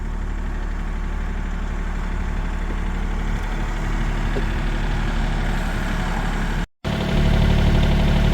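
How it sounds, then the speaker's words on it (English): Tractor engine idling and running steadily while backing up, a continuous low rumble close by, with a brief cut near the end. "My assistant's gonna back the tractor up."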